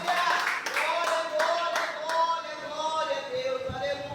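A church congregation at a family worship service claps in praise, rhythmic palm slaps running steadily under sustained singing or voices throughout.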